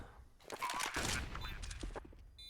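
Rapid gunfire from a Counter-Strike esports match on the Anubis map, a short dense burst of shots heard faintly behind a voice talking over it.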